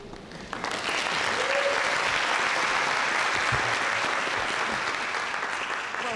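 Sustained, loud applause from a crowd at a town meeting, steady clapping filling the room for several seconds without pause.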